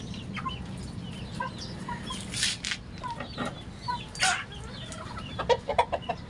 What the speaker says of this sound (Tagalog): Ito ang inahin niya ng aking breeders.